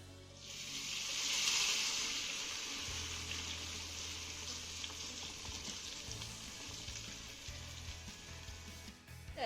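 Golden-fried alu vadi pieces sizzle steadily in a pan as coconut milk is poured in, a loud continuous frying hiss with a bubbling low rumble, no voices.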